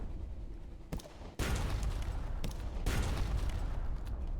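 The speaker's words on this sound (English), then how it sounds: "Fire the cannons." Ship cannons firing during naval combat in the Sunless Sea video game, a dense rumbling barrage of booms that starts after a brief lull and continues loudly for several seconds.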